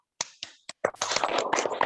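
Schoolchildren clap a rhythmic classroom clap routine: a few sharp separate claps, then a dense, faster burst of clapping, moderately close, with no speech.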